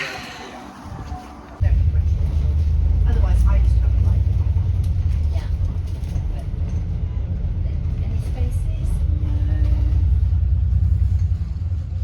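Car driving home after a shopping trip: a steady low engine and road rumble, heard from inside the cabin, starts loud after a quieter opening second and continues throughout, with faint voices in the background.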